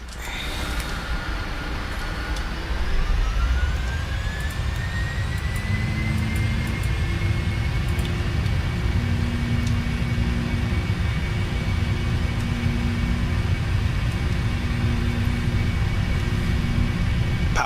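In the Prepar3D flight simulator, an airliner's jet engines spool up for takeoff. A loud, steady roar builds over a rising whine and holds continuously with a deep rumble throughout.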